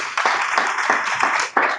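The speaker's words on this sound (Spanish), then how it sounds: "Usted le puede dar un aplauso a Dios por eso." Applause from a small church congregation during a Sunday service, hands clapping in a steady broadband patter that briefly dips near the end.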